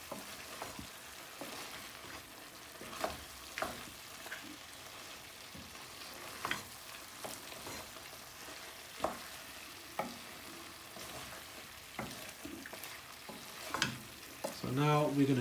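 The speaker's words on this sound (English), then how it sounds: "So now we're going to buna the meat and the spices on a low gas" Beef and spices frying in a thick masala for Beef Shatkora over a low flame, a continuous close sizzle with soft stirring scrapes and occasional clicks from the pan throughout.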